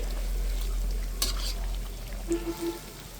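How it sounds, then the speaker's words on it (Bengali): Small and large pitha made from flour and banana fry in oil with a soft steady sizzle, interrupted by a sharp clink of a utensil and a few light knocks near the end. "এবার কিন্তু অনেকগুলো দিয়ে দিয়েছি আর ছোট বড় মিলাইয়া অনেকগুলো দিয়ে দিয়েছি যাতে খুব দ্রুত ভাজা হয়ে যাবে"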